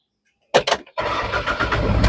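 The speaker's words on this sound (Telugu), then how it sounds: "సింగిల్ సెల్ఫ్లో బండి స్టార్ట్ అవుతుంది," A 2017–18 Tata Nexon XM diesel starts on the first crank: a short double cranking whir, a brief pause, then the engine catches and settles into a loud, steady diesel idle.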